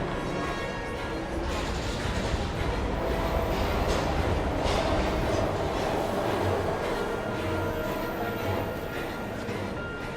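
Train in the video game Heavy Rain, a continuous dense rumbling rail roar with metallic clatter holding steady throughout, loud and close with no pauses.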